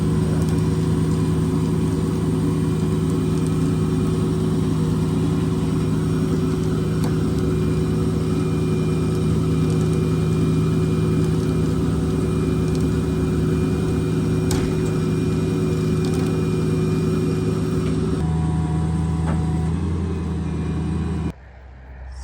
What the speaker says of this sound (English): He came and helped with his boom truck, and we lift the top right up there.